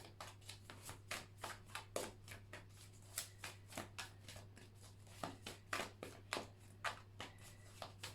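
Tarot cards shuffled by hand in a steady run of soft, riffling bursts, about two per second, close and fairly quiet over a low steady hum, with no talking.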